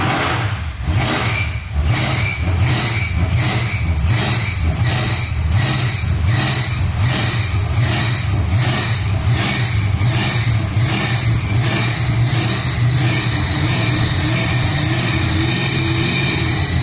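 A Fast & Furious Dodge Charger on a dyno, its engine revving loudly and near in repeated rising and falling pulses, hunting unevenly for idle over a continuous throaty drone.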